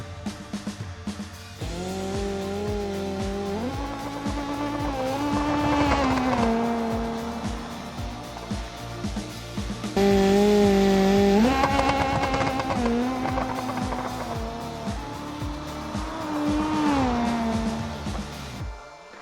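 A twin-turbo Hirochi Sunburst drag car in the BeamNG racing game makes a loud engine pass, revs rising in long pulls with shifts around the third and tenth seconds, steady and close throughout with no voices.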